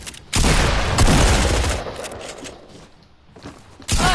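Loud bursts of video game gunfire on PS4 rattle in quick succession, easing off midway before another sharp volley at the end.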